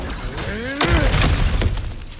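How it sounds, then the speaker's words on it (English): Kratos bursting through cracked ground in God of War, a loud crunching shatter of breaking rock with scattered debris after, close and prominent over a low game ambience, no talking. "I'm just smashing through things for fun and profit"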